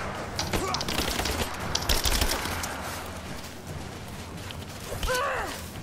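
Gunfire in the video game Rise of the Tomb Raider, with dense rapid shots and bursts mixed with game effects, loud and continuous throughout.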